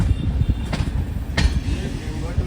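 On board the Sanghamitra SF Express passenger train, a low rolling rumble runs continuously, broken by a couple of sharper rattling bursts as the carriages clatter along.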